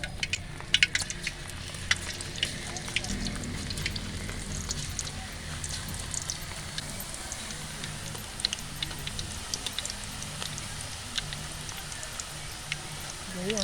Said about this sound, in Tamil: எண்ணெயில் வந்து வாழைக்காயை வந்து இந்த மாதிரி தொட்டுக்கலாம்